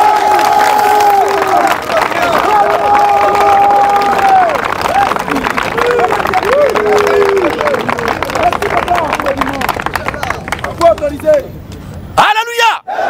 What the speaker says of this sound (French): On acclame le Seigneur Jésus-Christ.